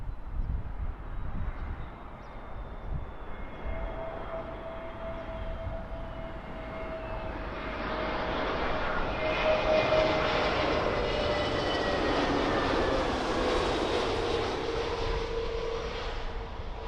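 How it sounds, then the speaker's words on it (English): A Middle East Airlines Airbus A321neo arriving at London Heathrow on runway 27L from Beirut: a steady jet roar that swells and rises in pitch over the final seconds, with whining engine tones layered on top, heard from a distance with no talking. "we've got a Middle East Airlines 321 Neo arriving in from Beirut"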